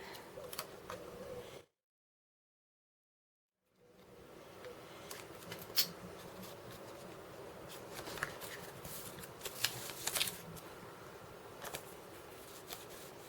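Scissors cut through paper while a paper memory game is being made, giving quiet, close snips and rustles that come in uneven bursts after a brief gap of silence.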